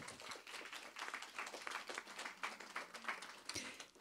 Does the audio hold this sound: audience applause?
yes